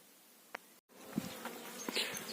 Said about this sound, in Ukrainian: Бджоли вилітають.